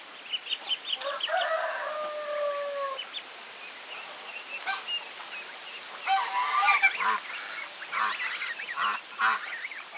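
Young ducks splash about in mud, giving a string of loud, nasal honking quacks in irregular bursts, some close and some further off, with quiet gaps between calls.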